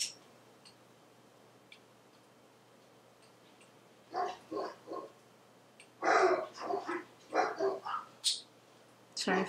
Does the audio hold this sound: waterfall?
no